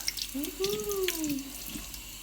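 Water from a kitchen sink tap rinsing a tray, a steady close running splash with a rising and falling tone lasting about two seconds, alone without talk.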